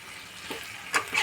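Potatoes and spice paste frying and being stirred in a pan for a broccoli and paneer dalna: a soft continuous sizzle broken by a few sharp scraping stirs near the end.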